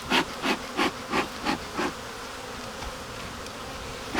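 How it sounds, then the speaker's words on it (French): Honeybees buzz inside a hive full of young bees feeding on pollen sugar, six rhythmic pulsing bursts of buzzing up close in quick succession, then a softer steady hum. "Alors vraiment plein de jeunes abeilles ici."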